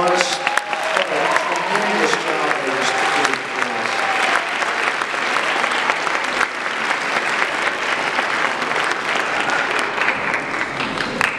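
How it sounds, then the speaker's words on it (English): Sustained applause from a large audience at a district school chorus concert, dense steady clapping filling the room throughout, with faint voices mixed in early on. "let's give another round of applause"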